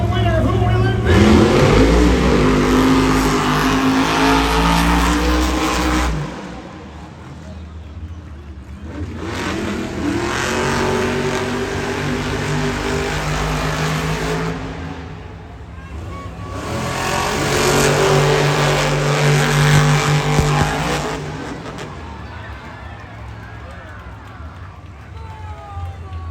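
Monster Jam trucks racing in a stadium final, the Zombie truck among them, roar in loud sustained engine surges that swell, dip and return in three long waves, with crowd noise and an announcer talking over them.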